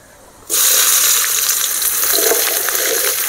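Onions dropped into hot oil after cinnamon and chillies for a Tamil chicken puli kulambu: sudden loud sizzling that bursts in after a quiet start and then holds as a steady, bright hiss close up.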